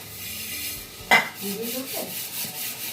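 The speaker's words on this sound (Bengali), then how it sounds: "বাসন ধুচ্ছি রে" Dishes, pots and pans are washed in a home kitchen: one sharp metallic clank, then soft scrubbing and rubbing sounds close by.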